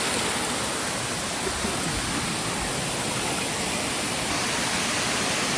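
Constant roaring rush of a waterfall at Chanderai village, dense and unbroken, filling the whole clip with no other sounds.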